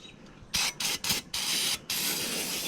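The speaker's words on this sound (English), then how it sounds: "brake parts cleaner, go ahead and spray these bad boys down" An aerosol can of brake parts cleaner hisses in several short, loud bursts, then one longer continuous spray, close to the microphone.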